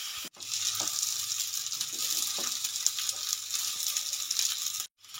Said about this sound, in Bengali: 3 থেকে 4 মিনিট মতো চালটা আমি নেড়ে ছেড়ে নেব সব সবজির সাথে।